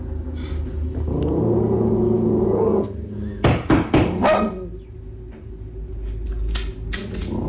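A dog barks indoors, muffled and somewhat distant, followed by a cluster of loud, sharp knocks on a door, then a low, steady background.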